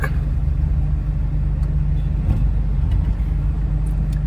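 Steady low rumble of road vehicles moving through Ernakulam city, a continuous, fairly near traffic drone with no distinct individual passes standing out and no voices.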